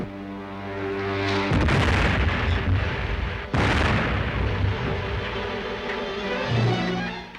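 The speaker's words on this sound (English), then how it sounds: "They're trying to bomb us." Bombs dropped from an attacking spaceship explode in heavy rumbling booms in a 1930s science-fiction serial, two big blasts rolling out over a sustained, noisy roar.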